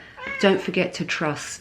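A cat meows several times at close range while someone talks over it.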